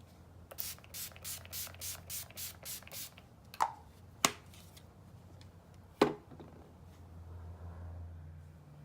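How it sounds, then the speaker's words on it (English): Urban Decay All Nighter makeup setting spray is pumped in a quick run of about nine short, misty spritzes, followed by a few sharp, isolated clicks and handling knocks, with no talking. "And I'm gonna set that with Urban Decay All Nighter."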